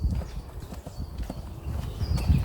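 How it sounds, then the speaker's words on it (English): A horse on a road gives steady, close clip-clop hoofbeats in an even walking rhythm, fairly loud throughout. "There's a horse down this road."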